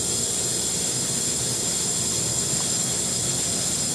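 A rotary evaporator's motor runs with a steady, unchanging hum and faint high whine close by, with no talk over it.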